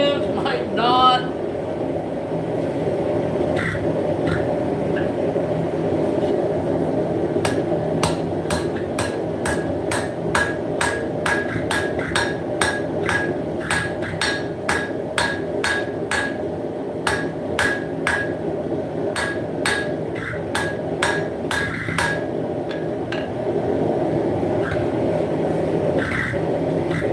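Rapid metallic hammer strikes forging a striker from a railroad lock washer ring out in a steady, quick rhythm over a constant background hum, loud and close, with a few pauses between bursts.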